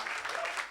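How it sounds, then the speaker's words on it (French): A church congregation at an evangelistic service bursts into steady, dense applause, many hands clapping at once, with voices faintly mixed in. "Can somebody clap your hand for the Lord?"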